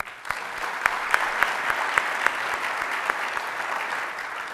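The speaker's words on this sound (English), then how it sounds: "a big round of applause for META" Audience applause at a city's State of the City address, a steady wash of many hands clapping in a large room, with a few sharper individual claps standing out over the crowd's sustained clapping.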